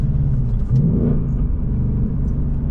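A 2024 Ford Mustang GT's engine rumbles low and steady from inside the cabin while driving, with a short rising rev blip around a downshift, loud and alone without talk.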